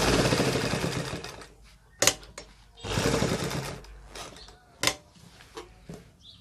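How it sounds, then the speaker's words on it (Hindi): A sewing machine stitches around a trouser back pocket, running in short whirring bursts with brief pauses and sharp mechanical clicks between them. "अब चारों तरफ टांका दोस्तों इस प्रकार लगा लें।"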